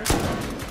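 Rapid gunfire in the modded survival game Rust, a dense burst of loud shots running continuously through the moment with no pauses.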